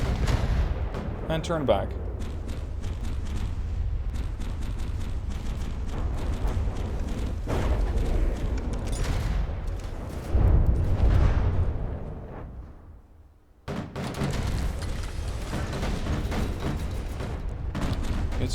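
Artillery shells fire in From The Depths, heavy booming blasts and rumbling gunfire that roll continuously under a talking voice, with a brief lull before the firing resumes.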